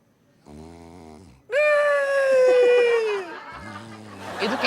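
A man imitates crying while snoring, a low rumbling snore followed by a loud, drawn-out wailing cry that wavers and falls, then more low snoring and a rough exhale.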